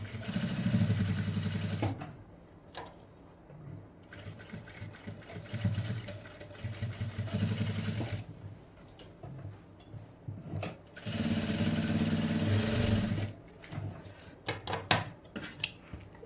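Sewing machine stitching fabric along the corner of a double-thread piping edge, running in loud bursts of steady motorized whirring separated by quieter pauses with small handling clicks, close by with no talk.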